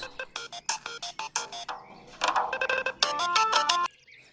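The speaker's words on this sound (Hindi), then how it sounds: "तुम्हारा मोबाइल बज रहा है।" A mobile phone ringtone plays a bright melodic run of short electronic tones, loud and near. It starts as separate beeps, then becomes a denser, continuous jingle before cutting off, heard in a quiet place away from the city.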